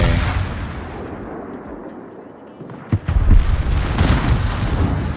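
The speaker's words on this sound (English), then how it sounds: "he's going to return fire with his Russian 406s" Heavy Russian 406 mm naval guns firing in a World of Warships battle: a rumbling, booming barrage that fades, then a sharp fresh blast with deep rolling thunder near the end.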